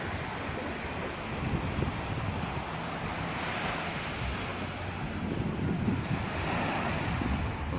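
Surf breaking on the shore near a lighthouse at Baler, a continuous rolling wash of waves with gusting wind buffeting the microphone and no voices.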